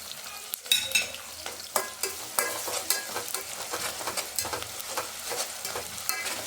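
Ginger-garlic paste frying in hot oil for a mutton masala curry, a steady close sizzle broken by repeated scraping stirs of a spatula against the pan, with no talking.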